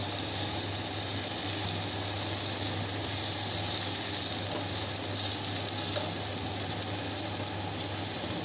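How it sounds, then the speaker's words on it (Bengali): Brinjal pieces frying on a hot tawa for baingan bharta give a steady, close sizzle with a faint stirring scrape now and then, with no talk over it. "উল্টে পাল্টে এরকম করে বেশ ভালো ভালো করে ভাজা ভাজা হয়ে যাবে।"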